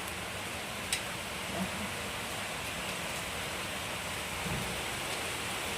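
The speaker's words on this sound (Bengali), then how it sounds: "মুসুল ধারায় বৃষ্টি হচ্ছে একদম" Heavy rain pours down steadily at night, a dense continuous hiss of water with no pauses and a few faint knocks underneath.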